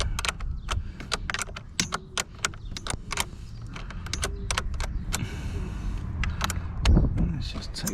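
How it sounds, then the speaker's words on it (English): Loosening a battery terminal bolt with a 10 mm socket on a Mercedes-Benz C220. Close, sharp metallic clicks and ratcheting snaps come in irregular bursts over a low rumble. "And it's a 10 mil socket. Let's loosen this bad boy up."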